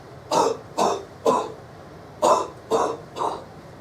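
Six short cough-like bursts from voices imitating coughs together in unison, in two groups of three with a pause between, fairly near and evenly paced.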